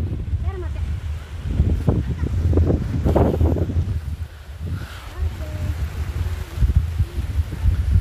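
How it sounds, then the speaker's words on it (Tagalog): Strong wind gusting across an open outdoor area, blowing dust and sand, a steady broadband roar with buffeting on the microphone and someone speaking intermittently over it. "Lakas ng hangin."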